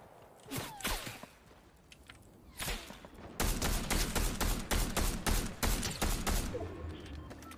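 Gunfire in a shooter video game comes first as a few scattered shots, then as a fast run of rapid, evenly spaced gunshots.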